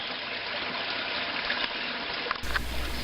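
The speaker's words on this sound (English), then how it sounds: "I enjoyed that babbling brook sound the entire time I was there" A babbling brook at a forest campsite in a state forest, with steady rushing, trickling water close by throughout and a few brief splashes near the end.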